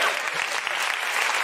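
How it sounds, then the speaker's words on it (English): Live comedy show audience breaking into dense, steady applause that holds evenly for a short burst, close and fairly loud. "You are allowed to applaud now."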